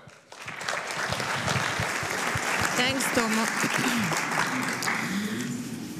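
An audience at a press conference for a world Arabian racehorse conference in Madrid breaks into sustained applause, a dense, fairly loud wash of clapping that swells quickly and holds, with a voice speaking briefly over it.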